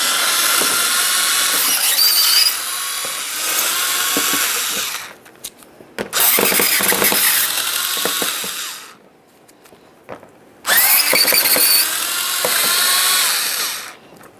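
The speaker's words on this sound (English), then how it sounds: "Let's start with the 7mm mounting bolts." A power tool working loose the 7mm mounting bolts during radiator replacement on a 2006-2012 Ford Fusion 3.0L V6, three loud whirring bursts of several seconds each with brief quieter pauses between, close up.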